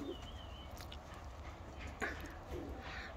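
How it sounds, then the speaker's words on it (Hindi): Pigeons kept by a fancier for summer flying and breeding make soft, low coos amid faint rustling and a brief scuffle, fairly quiet and close with no talk. "ये कबूतर जनाब उड़नगे भी तो ब्रीड भी अच्छी करेंगे"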